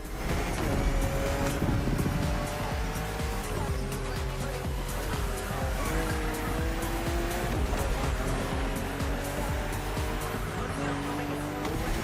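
A BMW M4 CSL in the racing game The Crew Motorfest, its engine droning steadily as it accelerates hard, with rising and falling revs and occasional tire noise, loud and continuous.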